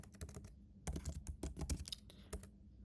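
Python code being typed on a computer keyboard: quick bursts of close, crisp key clicks with short pauses between runs, fairly quiet and with no talk over them.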